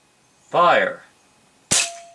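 One loud, sharp gunshot fired at a spanking paddle target cracks out alone just after a single shouted word, then rings briefly with a faint tonal tail.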